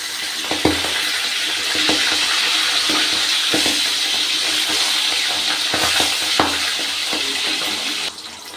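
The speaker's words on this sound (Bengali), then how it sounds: "মাছের এক পিঠ আমার ভাজা হয়ে গেছে, আমি আর এক পিঠ আগের মতো উল্টে দিচ্ছি।" Fish frying in a pan of hot oil and being turned over, a loud continuous sizzle broken by several sharp spatula scrapes and knocks, easing at the very end, with no talking.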